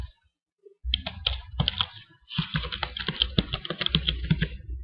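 Typing on a computer keyboard while entering text in Photoshop: a close, quiet burst of key clicks, a short pause, then a longer run of rapid, uneven keystrokes, with no one talking.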